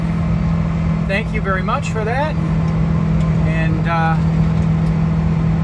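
A loud, constant engine drone fills the cab of a 25-year-old Subaru Sambar kei truck with an aftermarket exhaust, a steady low hum with someone talking over it.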